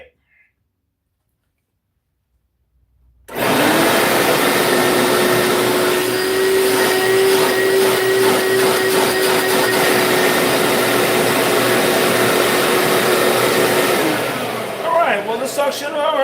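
A vacuum cleaner under repair switches on after a short silence and runs loud and close at a steady droning whine for about ten seconds during a suction test, then its pitch wavers near the end.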